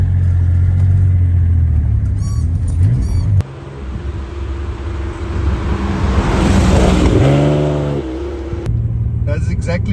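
A 1982 Maserati Merak Italian sports car rumbles and revs while driving, its engine swelling and falling through short gear changes, loud and close from inside the cabin.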